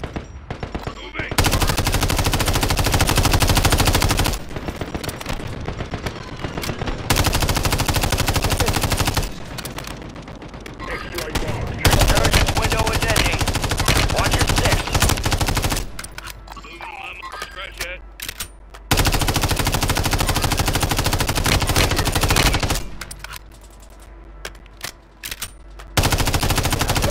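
Sustained bursts of automatic machine-gun fire in a video game, loud and dense, broken by brief pauses and continuing in long volleys until the weapon runs dry, with a voice talking over parts of it.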